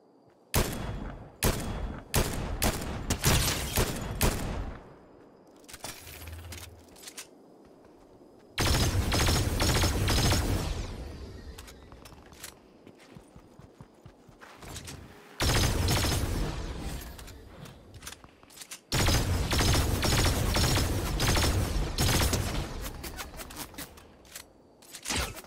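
Gunfire from a video game comes in long, loud bursts of rapid automatic shots, several sustained strings separated by brief pauses, with single shots scattered at the start.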